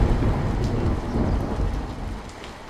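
Heavy rain pours down steadily while low thunder rumbles through it, a dense, continuous roar with no voices.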